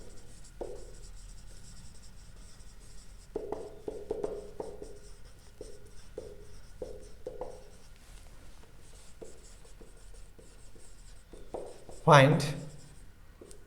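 Chalk or marker writing a math problem on a board: short, rhythmic scratchy strokes in quick clusters, close and fairly quiet, with a brief louder squeak near the end and a voice speaking a word.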